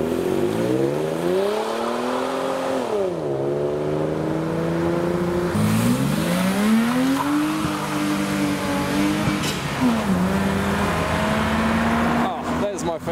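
AMG car driving away from a classic car meet, a continuous engine drone with pitch rising through gears and dropping at shifts, fairly close, with a person talking over it.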